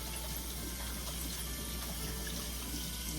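Tap water runs steadily into a sink while hands are washed before cooking, a constant close hiss with no talking.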